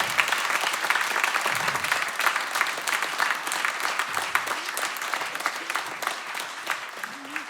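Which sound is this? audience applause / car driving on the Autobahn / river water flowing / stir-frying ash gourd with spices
audience applause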